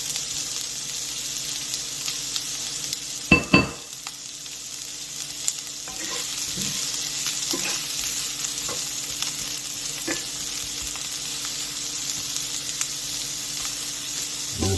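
Garlic and Anaheim peppers fry in a pan for chili with a steady, close sizzle. A sharp metallic clatter and scrape of stirring comes early, followed by occasional softer utensil taps, with no talking.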